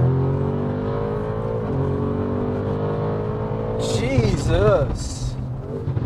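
An 830 hp Audi RS6 C8 in RS2 mode accelerates hard with a rising, roaring engine note that climbs through the gears. People talk and exclaim over the engine throughout.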